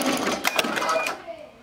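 A Ricoma MT-2001 embroidery machine stitches a design onto a structured hat, giving a rapid, close mechanical whirring and clattering that tapers off near the end.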